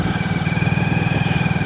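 A motorbike engine chugs in a steady, even pulse on a ride through a village road, close and fairly loud, with no voices.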